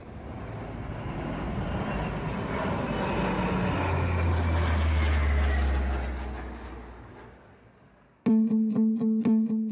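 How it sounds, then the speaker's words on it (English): A low-flying twin-engine plane with four-bladed propellers passes overhead. Its drone swells to a loud peak and then fades away, and an abrupt buzzing, distorted pulsing tone cuts in near the end. "this thing flying over your house at that speed with 2 engines, and they got 4-bladed propellers on them"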